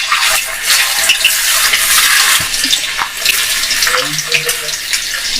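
A second batch of green chilies dropped into hot oil sends up a loud, rushing bubble and hiss that stays strong throughout, with some faint low clinks near the end.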